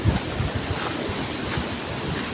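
Strong wind lingering after a typhoon on an island, a loud continuous roar with gusty buffeting against the microphone and a surf-like wash, no voices.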